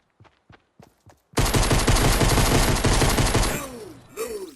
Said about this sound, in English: you can fire off shots as quick as you can pull the trigger